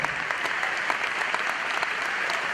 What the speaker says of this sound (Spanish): Gigante el aplauso.